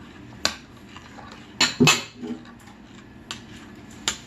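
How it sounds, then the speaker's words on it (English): A spoon stirring bread pudding mixture in a bowl: sparse, irregular clinks and scrapes, a couple of louder knocks close together near the middle, otherwise quiet between strokes, no talking. "Keep stirring, kiddo."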